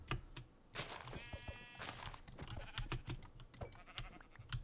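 A Minecraft sheep bleats faintly in short, quavering calls while a computer keyboard clicks steadily during hardcore survival play. No one talks.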